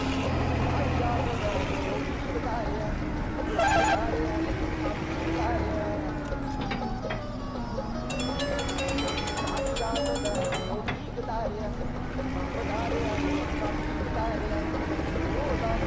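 A Kartar combine harvester's engine labours and growls in Farming Simulator 22 while its back wheels are stuck, a continuous droning hum that shifts pitch as the gear changes, with someone talking excitedly over it throughout.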